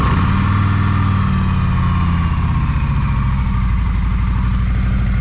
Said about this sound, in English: And that is the sound of a stock Harley-Davidson.